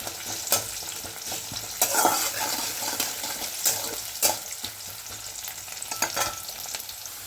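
Onions frying for sim bata, a bean paste dish, stirred in a pan with a steady crackling sizzle and repeated scraping clinks of a spatula, close and alone.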